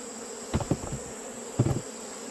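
Honey bees swarm and buzz around a hive lid during mite inspection, a constant dense drone with two dull bumps as the lid is knocked.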